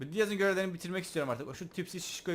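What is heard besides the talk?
No everyday noises stand out.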